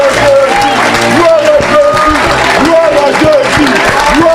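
A church congregation applauds and cheers in a sustained, dense wash of clapping, with voices rising over it in excited shouts and singing.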